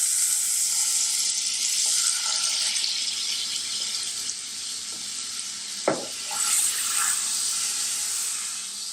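Butter and ghee sizzling in a pan for butter chicken, a bright steady frying hiss throughout with a brief clink of a utensil partway through.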